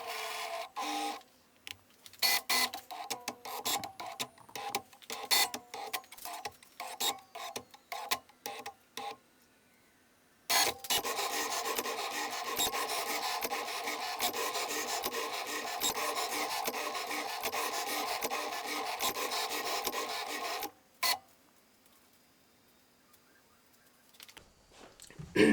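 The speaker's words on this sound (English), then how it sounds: "I'm gonna press basically the play button on this machine, and it's gonna cut all these cards out" A Cricut cutting machine slices printed cards on a sticky mat, first with bursts of ticking, rasping carriage movement, then a long steady mechanical whir before stopping, alone and close.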